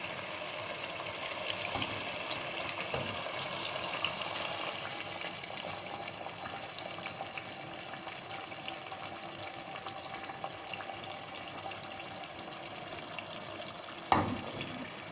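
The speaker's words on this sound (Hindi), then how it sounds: "अब इसमें हम यखनी डाल देंगे।" Meat stock (yakhni) poured into an aloo gosht curry, a steady liquid wash and faint sizzle running throughout, with a sharp clink near the end; no talking.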